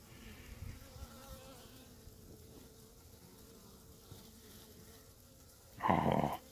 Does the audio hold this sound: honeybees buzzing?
yes